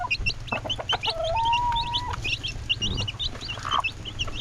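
Chickens cluck in a farmyard beside a pig pen. Short, choppy calls come from several birds at once, close and fairly loud, with a longer drawn-out cackle among them.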